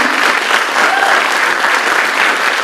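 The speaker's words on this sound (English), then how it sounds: "I want another big round of applause for Shane Cloutier with the Sebastopol Valley Community Band" A crowd at an adult-education high school graduation ceremony breaks into dense, loud, continuous applause, many hands clapping at once without pause.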